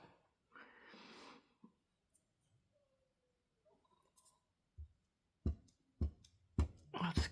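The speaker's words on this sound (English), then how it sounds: "It's my dog snoring away right next to me on the sofa." A dog snoring on a sofa close by, with a soft breathy rasp early on, then a run of low snorting grunts toward the end, fairly quiet in an otherwise still room.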